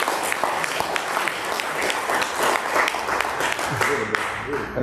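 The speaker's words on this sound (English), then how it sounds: "So why don't we give a clap offering for our brother, Beto?" A church congregation claps in unison during a morning service, dense and sustained applause filling the room for several seconds, with voices mixed in underneath.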